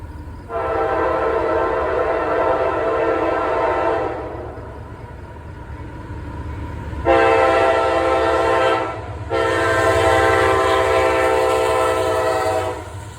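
A Union Pacific America 250 Coast-to-Coast Tour train passes on the Norfolk Southern Lake line, sounding its horn in three long, loud blasts over the low rumble of the moving train.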